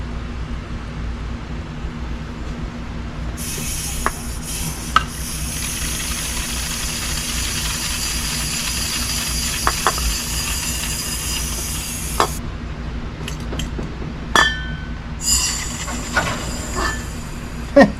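Oil gurgles and hisses through the engine oil cooler of a freshly rebuilt LS 6.0 LQ4 V8 for a 1986 Suburban C20, with a steady wash of rushing flow and a few sharp clicks and knocks.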